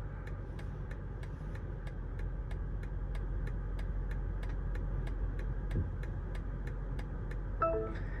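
A BMW steers itself through automatic parking, its engine a low steady hum under a regular ticking indicator, with a short chime near the end.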